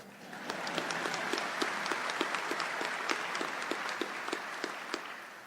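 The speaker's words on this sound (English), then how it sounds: "you can clap." Scattered applause from a crowd at a university facility opening, steady clapping that builds and holds for several seconds, heard at a distance with no voices over it.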